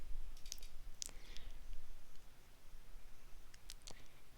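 A few light computer mouse clicks, soft and close, a pair of quick taps near the start and another pair near the end over quiet background hiss, no talking.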